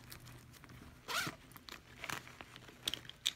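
A zipper on a Liz Claiborne handbag's pocket is pulled in one short rasping run, followed by a few faint ticks and rustles of the bag's fabric nearby.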